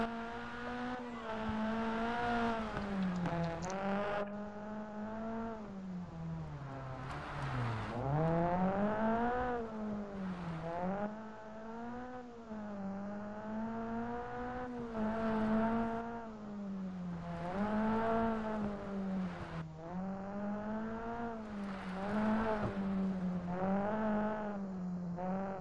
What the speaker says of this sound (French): Alors au niveau des bruits hein, du moteur, bon, c'est ça ressemble à des bruits de moteur